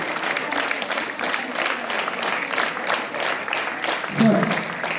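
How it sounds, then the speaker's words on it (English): Students at a school morning assembly clap their hands together in a steady, dense patter of applause, close and fairly loud, with a brief shout near the end. "Clap hands."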